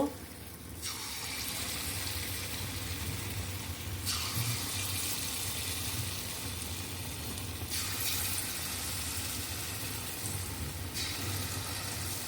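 Palm fruit fritters fry in hot white oil with a loud, continuous close sizzle that briefly dips and swells as the pieces are added one by one.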